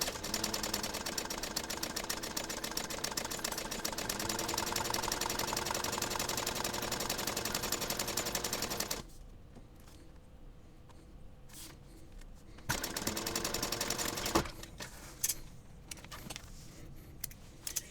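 A sewing machine bastes a slip pocket onto an Onigiri backpack panel with a 1/8 inch seam allowance at stitch length 5. Steady, close mechanical stitching runs for about nine seconds, pauses, then returns in a shorter burst with faint clicks between.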